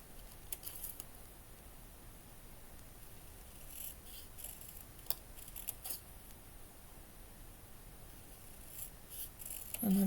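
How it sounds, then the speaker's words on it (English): Paper-only scissors cutting paper for a miniature cat cafe garden room box: slow, careful snips and soft rasping strokes spread across the stretch, quiet and close with no talking. "I'm actually thinking I'm gonna switch my scissor here because I have a paper scissor that is kind of a lot better than the other one."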